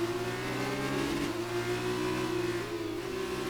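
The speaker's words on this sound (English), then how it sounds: "I love the sound of these F2 cars." F2 race car engines in a racing video game hold a steady, loud, high-pitched whine throughout, with a slight dip and recovery in pitch midway, and no talking.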